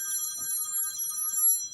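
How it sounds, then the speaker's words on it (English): A telephone rings with a bright electronic tone that holds steady throughout. It sounds fairly clear, with only faint background noise and no talking. "I'll take this phone call later."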